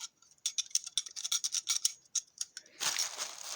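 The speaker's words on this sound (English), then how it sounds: "rattly springs" Worn springs in a used Daihatsu Charade GTti clutch disc rattle in quick, light metallic ticks, a dozen or so close clicks, followed by a short, brighter rattling burst at the end.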